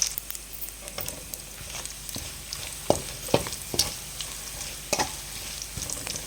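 Mustard seeds, cumin, chilies, garlic and onion sizzle in hot oil for a Telugu tomato moong dal tempering, a steady frying hiss broken by sharp crackles and pops, close and alone.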